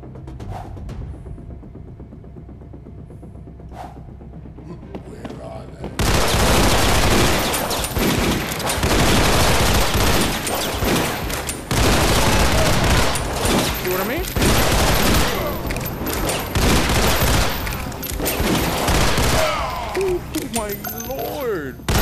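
Video game gunfire from a zombie shooter, sustained loud automatic bursts and rapid shots filling the space almost continuously after a quieter opening, with a voice talking over it.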